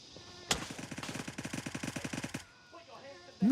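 A gun in the Gray Zone Warfare video game fires full-auto until the magazine is empty: one sharp shot, then a fast, even rattle of about twenty rounds lasting two seconds, followed by quiet.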